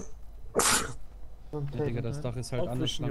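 A single loud, sharp sneeze bursts out close to the microphone, followed by someone speaking German in a livestream setting.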